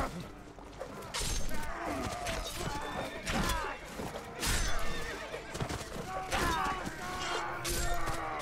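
Horses neigh and whinny repeatedly in The Last Days of the Third Age, several loud calls amid clopping hooves and battle clatter, with someone talking over parts of it.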